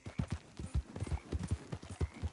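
A horse in Red Dead Redemption 2 gallops with quick, rhythmic clip-clopping hoofbeats, steady and moderately faint, with no talk over it.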